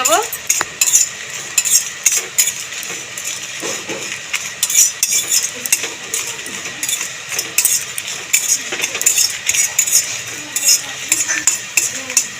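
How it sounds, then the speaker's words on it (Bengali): Dried red chilies and whole cumin are dry-roasted in an empty kadai, with a utensil steadily scraping and clinking against the metal pan in quick, continuous strokes and no talking. "কালি কড়াইতে নেড়ে চেড়ে শুকনো লঙ্কাটা ভাজতে ভাজতে তার সাথে দিয়ে দেবো গোটা সাদা জিরে"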